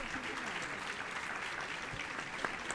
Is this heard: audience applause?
yes